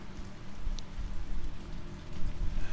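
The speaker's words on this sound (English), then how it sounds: "hear the rain pouring down." Rain pouring down steadily in the video game Resident Evil 3, a continuous dense hiss of falling drops at even loudness throughout.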